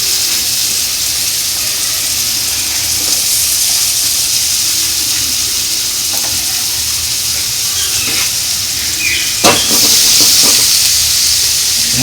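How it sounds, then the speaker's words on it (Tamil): Onions, tomato and green chilli fry in hot oil for a Tamil chicken lappa recipe, making a loud, steady sizzle and hiss throughout, with a few stirring clatters toward the end. "எண்ணெய் சூடாகிடுச்சு. இதில் வந்து பார்த்திங்கன்னா வெங்காயம் போட்டுக்கணும்."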